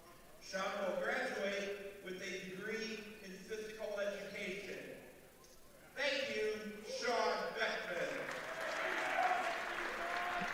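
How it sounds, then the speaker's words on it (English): Crowd in a men's college volleyball gym clapping and cheering in loud bursts that swell, fade and swell again, with an announcer speaking over them. "as you can hear the applaud from the crowd"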